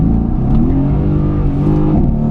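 Mercedes-AMG GT S engine revving loudly through a downshift, a deep, rich exhaust roar with rising and falling pitch sustained close by without talk.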